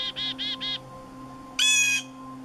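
Three quick harsh calls from chickadees and jays in autumn, then a louder single squawk a moment later, close and clear over a low background hum.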